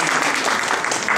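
An audience in Istanbul gives a short burst of dense, steady applause after a Chinese song, the claps fairly close and lively throughout.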